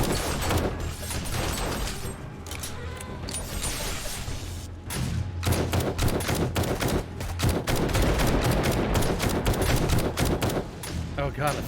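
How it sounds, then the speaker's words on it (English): A shotgun turret in the game 7 Days to Die fires repeatedly in rapid, loud bursts of blasts and thumps, with a person talking over the shooting. "I think it's one of the shotgun turrets or something."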